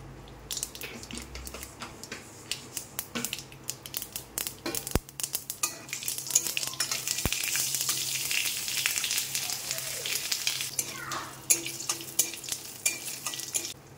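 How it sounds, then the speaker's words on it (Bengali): Dried red chilies and mustard seeds fry in white oil in a pan, the sizzle swelling into a dense, close hiss peppered with sharp crackles and a few utensil clinks. "একটু সাদা তেল দিয়ে দেবো এর ভিতরে, সামান্য শুকনো লঙ্কা দিয়ে দেবো, আর একটু সর্ষে দিয়ে দেবো এর ভিতরে"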